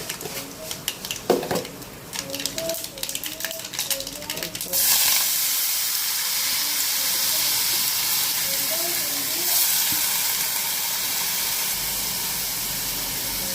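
Pappadam frying in hot oil with mustard seeds: a few seconds of crackling and popping, then a loud, steady sizzling hiss close by that continues to the end.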